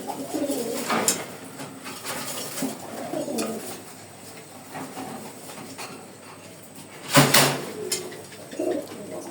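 Pigeons, a newly paired couple kept by a breeder, coo in soft low repeated calls against steady background noise, with one louder burst near the end.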